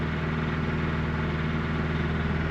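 A cold VAZ 99 Lada engine idles close by with a steady, even low drone and rhythmic pulsing, unchanging throughout and with no speech over it.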